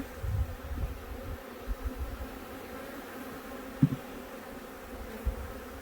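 Honeybees from a nuc buzz steadily in a low continuous drone during a transfer into a hive, with a few soft bumps and knocks close by.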